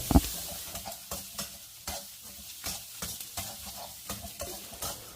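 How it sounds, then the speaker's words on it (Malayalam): Sliced onions, garlic and dried chillies sauté in hot oil for an okra tamarind curry, a steady close sizzle broken by repeated scraping stirs at an uneven rhythm, with no talk. "രണ്ട് സവോള സ്ലൈസായിട്ട് അരിഞ്ഞ് കൊടുക്കാം ഇത് ഗോൾഡൻ ബ്രൗൺ ആവുന്നത് വരെ വഴറ്റിയെടുക്കാം"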